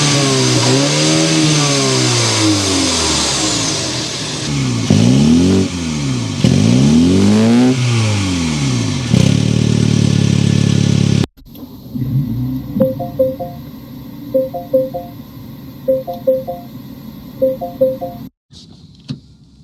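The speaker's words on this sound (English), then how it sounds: "we need to go inside and start these Minis up so you can hear that exhaust note" A 2025 Mini Cooper S engine revs repeatedly, rising and falling in loud swooping sweeps of exhaust note, then holds a steady drone before cutting off, followed by quieter clicks, electronic chimes and mechanical movements.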